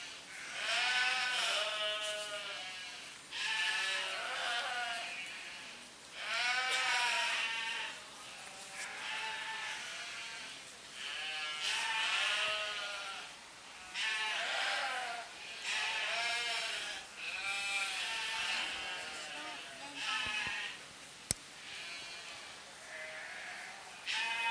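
Sheep bleat repeatedly at a breeding sheep show at a county fair, a steady series of loud, wavering calls from several animals close by, with no talk over them.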